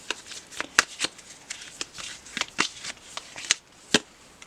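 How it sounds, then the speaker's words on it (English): Tarot cards being shuffled and pulled from the deck by hand. The card riffles come as a quick, irregular series of crisp flicks and slaps, fairly close and clear, with no talking over them. "I'm going to pull some panda cards for you."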